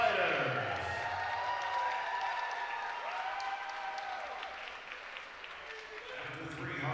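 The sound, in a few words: crowd applause for kickboxing fighters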